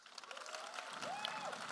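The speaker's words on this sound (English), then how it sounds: "By round of applause, how many of you are visiting Texas?" Fairly faint audience applause and cheering at a fan convention panel, a steady crowd wash swelling slightly after the first second, with a whoop rising above it.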